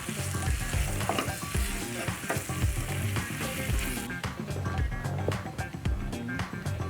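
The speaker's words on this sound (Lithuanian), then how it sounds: "Dabar vištienos krūtinėlę dedame taip pat į keptuvę." Salted chicken breast pieces for curry sizzle steadily in a hot pan, with repeated scraping and clinking as they are stirred.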